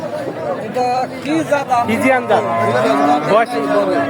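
A cow moos amid a busy crowd of chattering voices at a cattle market, the lowing mixed in with close-by talk about a one-year-old heifer.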